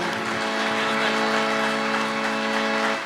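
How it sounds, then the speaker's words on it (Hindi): An audience at a Christmas carol program applauds, a dense, even wash of clapping that holds steady and loud for about three seconds. "जोरदार तालियां भाई के लिए।"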